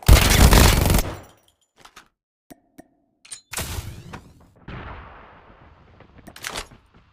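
Gunfire from a BP-50 assault rifle in Call of Duty Mobile: a loud opening burst followed by scattered single cracks and a few shorter, quieter bursts with gaps between them.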